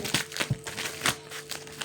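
Plastic packet being handled while unboxing small items, a few close, sharp crinkles and rustles in quick irregular bursts.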